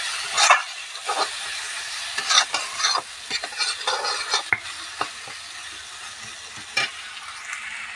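Chilli paste and tomato paste frying with spices in a pan over heat, a steady sizzle broken by repeated scraping stir strokes, close and fairly loud, with no talking.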